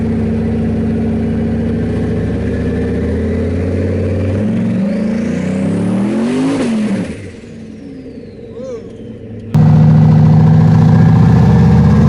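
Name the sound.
turbocharged truck accelerating on street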